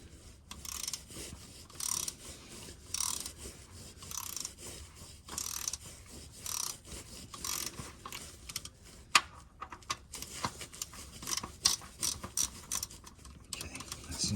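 A torque wrench ratchets while tightening bolts on a Lotus Evora during an oil change, making clusters of quick mechanical clicks close by. The clicking comes in intermittent bursts with short pauses, and there is no speech.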